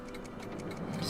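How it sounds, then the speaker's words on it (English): Several clocks tick together in Doc's lab in the Back to the Future video game, a faint, steady, overlapping ticking set against a low hum. "So many clocks."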